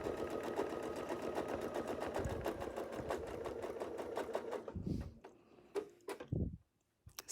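A sewing machine runs fast, even stitches while quilting a design, then slows into a few separate stitches and stops. Close handling knocks and a faint thump follow.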